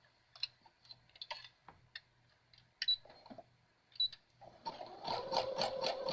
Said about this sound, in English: I use the zigzag stitch again